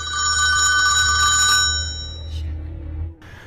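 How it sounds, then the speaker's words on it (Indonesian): A telephone rings in the 2010 film Trust: a loud, steady electronic ring that lasts over a second, then stops and leaves a low room hum with a faint click near the end. "telepon ibunya pun berdering"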